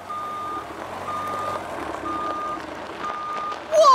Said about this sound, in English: It's a big, green dump truck.